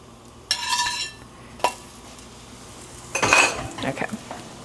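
Salt-cured egg yolks flipped in a dish give a few brief clinks and scrapes of utensil against dish at close range, with short bursts separated by quiet gaps.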